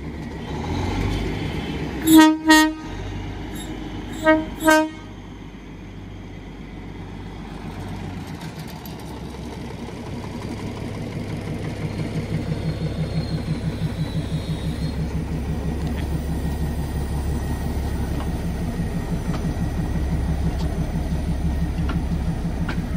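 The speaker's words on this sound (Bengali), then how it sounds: "এটা হচ্ছে ডিজেল ইঞ্জিন।" A Darjeeling Himalayan toy train diesel locomotive sounds two pairs of sharp horn blasts close by, then settles into a steady, throbbing engine idle that continues alone to the end.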